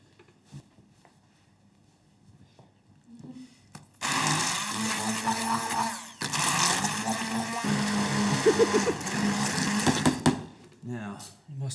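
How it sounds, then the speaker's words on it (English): A stick blender whirs loudly for several seconds blending a ratatouille sauce, pausing briefly midway, after quiet kitchen sounds; the motor cuts off abruptly at the end. "I'm going to go with a stick blender."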